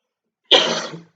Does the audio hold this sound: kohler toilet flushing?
no